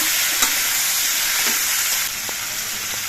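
Mixed vegetables fry with shrimp in a pan, a dense, loud continuous sizzle with a few faint utensil taps, steady throughout and dropping slightly in level partway through.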